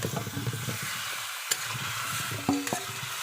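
Hog plums tipped into a pan of spice masala already fried with turmeric powder give a brief sizzle and stirring scrapes, with a sharper burst of frying near the end; no one speaks.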